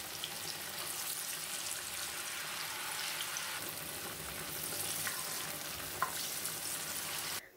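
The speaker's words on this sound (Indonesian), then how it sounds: "Goreng tahu dalam minyak panas api sedang." Thin slices of tofu frying in hot oil over medium heat, giving a steady, dense sizzle that crackles evenly throughout with a few brief spatters and ends abruptly.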